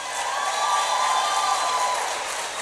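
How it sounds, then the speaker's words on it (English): A large audience at the 2025 Extra Yard for Teachers Summit gives a round of applause, a dense roar of clapping mixed with cheers and whoops, steady and full throughout. "Can we give him another round of applause?"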